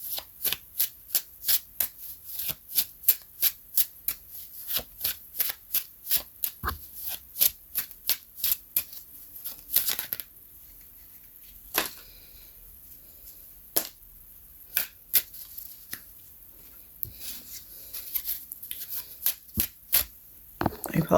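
Oracle cards from a true crime deck shuffled by hand, sharp riffling bursts repeating rapidly at first, then sparser single snaps and shuffles, close and alone with no talk.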